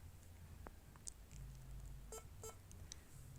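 An HP laptop gives a few short, faint electronic beeps while rebooting into its boot menu. The beeps are spaced irregularly over a low, steady background hum.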